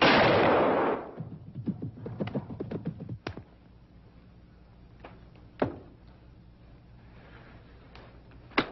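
A single loud gunshot from a hunting rifle in a 1952 film rings out at the start and decays into a long echo, followed by a few faint thuds and knocks in a quiet scene.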